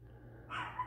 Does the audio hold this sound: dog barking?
yes